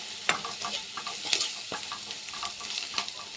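Eggplant gojju fries in a pan with ground coriander and green chilli powder, making a bright, steady sizzle broken by quick spoon stirs.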